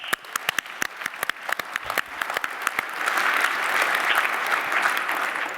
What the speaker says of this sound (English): can I get a round of applause for the events team?